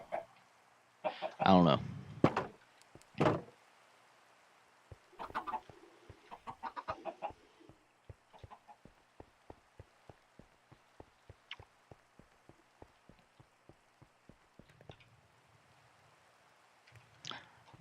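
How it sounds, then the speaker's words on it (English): Minecraft chickens in Sky Factory 3 clucking in short repeated bursts, with a sharp rooster-like call early on, followed by a steady run of faint ticking clicks, while a person talks briefly. "Actually now that we have so many chickens over here"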